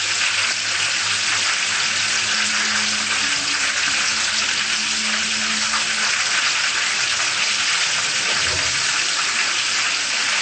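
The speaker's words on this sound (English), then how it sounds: "We let them fry" Food frying steadily in hot oil turned down to lower heat, a dense continuous sizzle filling the whole stretch at an even loudness, with no talking.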